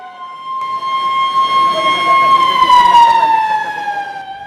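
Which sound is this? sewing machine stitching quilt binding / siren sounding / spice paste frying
siren sounding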